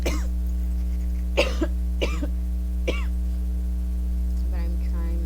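Person coughing several times in short, sharp bursts with pauses between them, close to the microphone over a steady electrical hum.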